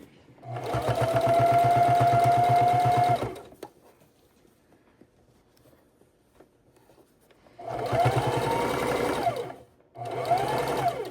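A sewing machine stitches quilt binding in two loud, fast runs with a steady whirring pulse, separated by a few seconds of near silence while the fabric is turned, then a short final burst.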